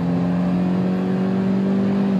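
A 2021 Suzuki Jimny's engine under full throttle, a steady loud drone heard from inside the cabin with a gradually rising tone, continuous and unbroken.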